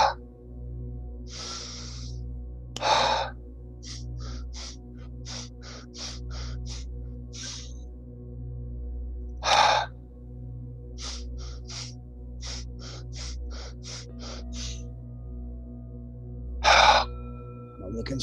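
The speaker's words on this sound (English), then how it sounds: "bigger breaths, connected breaths" Deep conscious breathing exercise heard close up: a few loud, sharp breaths at long intervals, with many shorter, fainter breath bursts between them over a low steady background hum.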